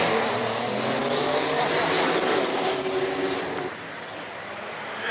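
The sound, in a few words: M2 Diesel race car driving Cape Town hillclimb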